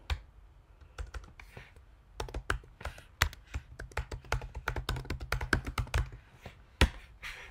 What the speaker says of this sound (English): So I'm actually going to undo that, so you will see me type this again.